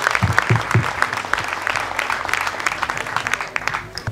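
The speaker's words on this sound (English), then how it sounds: "Give a round of applause if you went for Larry and Jim" Warm applause from an audience for the sixth-place team at a bass fishing tournament award ceremony, steady clapping with a few louder claps early on and some crowd noise underneath.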